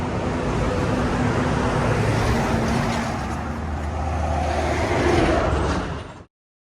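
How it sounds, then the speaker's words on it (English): Steady, loud roadway traffic roars near a parking lot at Wind Gap along the Appalachian Trail. A continuous wash of passing vehicles swells slightly before cutting off abruptly. "Road noise."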